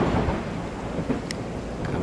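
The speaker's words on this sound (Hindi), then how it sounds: "कभी बढ़ रही है, कभी कम हो रही है बारिश" Steady broadband hiss of monsoon rain falling on a highway road trip, with a low rumble underneath and a couple of faint high clicks; continuous and fairly loud throughout.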